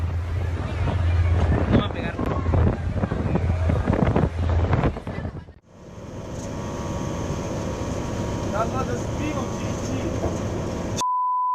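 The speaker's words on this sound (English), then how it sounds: "Despite the gale-force winds, the crew has managed to overcome the turbulent waves and set sail." Gale-force wind buffets a ferry on a stormy Caribbean sea: loud, roaring wind gusts and rushing water for about five seconds, a sudden dip, then a steadier, duller rush of wind and engine noise that cuts off at the end.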